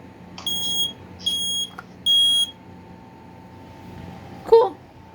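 A 2010 Kidde 0910 smoke alarm gives three short, loud electronic beeps in quick succession, followed by a brief handling knock near the end.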